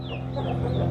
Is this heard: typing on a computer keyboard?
no